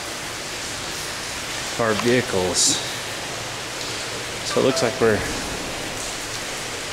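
Broad, steady wash of rushing floodwater filling an apartment parking structure in Indooroopilly, Brisbane, continuous throughout at moderate level, with a person talking over it in two short bursts.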